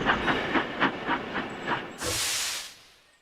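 Animated steam locomotive Thomas chuffs in with a series of rhythmic exhaust puffs that slow down, then ends in a loud burst of hissing steam that trails away.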